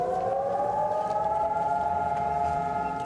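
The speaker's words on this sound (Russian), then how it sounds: "Звучит траурная сирена, и все замирает на одну минуту." A civil defense siren sounds in Israel on Independence Day as a mourning signal, holding a steady, sustained wail with a low rumble of background noise underneath.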